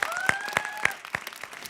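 An audience at a live Armenian comedy evening claps in a dense, continuous burst of applause, with a brief tonal ringing over the start.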